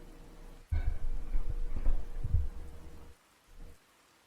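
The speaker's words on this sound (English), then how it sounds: "the rain you can hear is digital, so it's just digital rain" A digital rain sound effect swells in as a soft, low rumbling patter for about two and a half seconds, then drops away, with a brief faint burst after.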